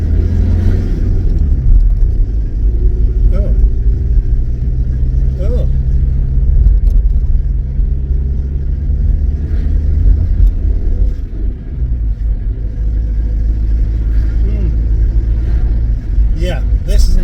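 A car being driven around a yard, its engine holding a low, steady rumble close by, with occasional revving swells and tonal whines rising over the drone across the whole stretch.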